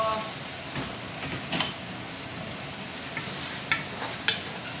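Chicken liver and heart stir-fry in a pan for Filipino pancit bihon, a continuous loud sizzle with scattered crackles and scraping stirs close by, and no talking.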